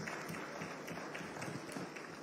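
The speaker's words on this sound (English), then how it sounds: "I think he deserves another round of applause" Audience applause at a health sector joint annual review in Abuja, a steady, dense wash of many hands clapping at moderate volume, fairly distant and continuous throughout with no talk over it.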